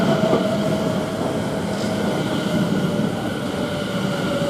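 A Class 720 electric train at Shenfield railway station, a close, steady rolling rumble with a faint sustained whine on top, no one speaking.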